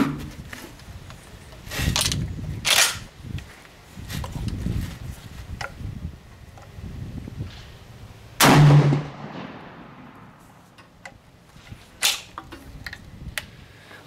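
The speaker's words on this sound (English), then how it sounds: "today I'm out here at my local shooting range shooting some brand new turkey loads from Federal Premium Ammunition" Shotgun firing Federal Premium blended turkey-load shotshells at an outdoor shooting range: a single sharp, loud blast partway through stands out above scattered softer thumps and outdoor background noise.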